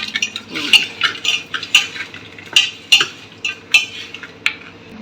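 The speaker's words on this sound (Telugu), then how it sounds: "ఇక్కడైతే మా మదర్ మొత్తం బాగా అయితే మిక్స్ చేసుకుంటున్నారు" Pulav ingredients with onion are mixed in a pot at home, the spoon scraping the bottom in steady, regular strokes with a faint clink on each pass, close and clear with no voices.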